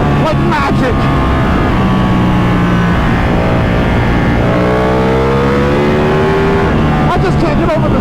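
Ducati motorcycle engine exhaust, from a Panigale V4 R or 1199R, roaring loudly and continuously with rising and falling revs and harmonic sweeps, up close and heavy throughout.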